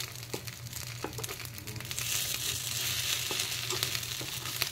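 Rice appe frying in an appe pan as they are turned over, a soft crackling sizzle that grows fuller and louder halfway through, dotted with small clicks and scrapes from the flipping.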